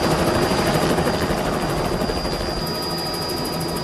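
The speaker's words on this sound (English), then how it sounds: "Within minutes, South African military helicopters arrive" South African military helicopters hover during a flood rescue in Mozambique, their rotors a loud, close, continuous thudding roar that fills the whole stretch without a break.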